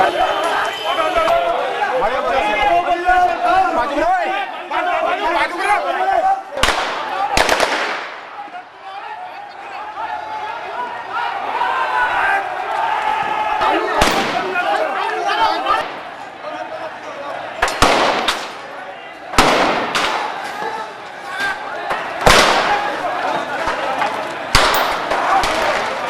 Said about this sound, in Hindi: पुलिस वाले अंदर घुस गए और हमारी को मारा है। फायरिंग चालू है।